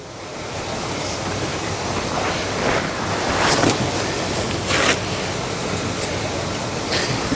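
Water rushes steadily past a fishing spot in Corpus, a loud continuous wash with wind buffeting the microphone and occasional swells of surf-like surges.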